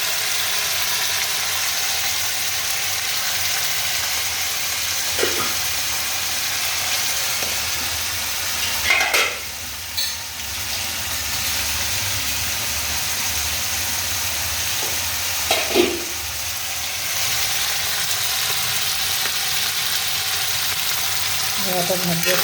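Paneer pieces fry in a pan with a steady, close sizzle and occasional scraping stirs at intervals.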